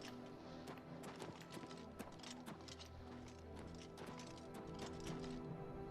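Horse hooves clip-clop in the video game Oblivion Remastered, a quick, steady run of sharp hoof strikes, faint and continuous, under a low background drone.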